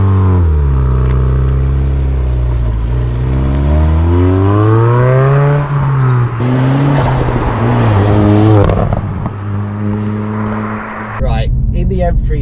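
A 2023 Ford Focus ST Track Pack with the M365 upgrade in sport mode revs and pulls hard, its engine note climbing and falling in loud sweeps close by, with someone talking over it.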